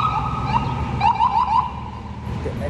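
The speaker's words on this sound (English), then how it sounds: "Let the ambulance go by." A wailing siren, tagged as a car alarm or ambulance, rises and falls in quick repeated whoops over steady street background, moderately loud and sounding fairly near.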